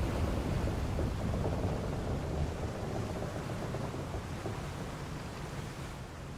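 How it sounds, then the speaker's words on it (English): A thunderstorm at sea in Final Fantasy XIV Dawntrail: a heavy, rumbling roar of wind, rain and low thunder that fills the whole stretch, slowly easing, with no one speaking. "We're in for a proper storm, it seems."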